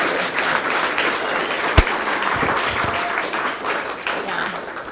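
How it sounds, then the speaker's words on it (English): Applause from an audience at a gallery talk for the Pittsburgh Biennial 2014, Miller Gallery CMU, a full continuous clapping wash with one sharp louder clap standing out partway through. "Really big round of applause for them."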